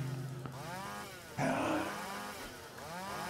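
Saw weapon in the Roblox game SCP Simulator, a buzzing, chainsaw-like motor tone with harmonic sweeps that revs up sharply midway and keeps droning at close range throughout.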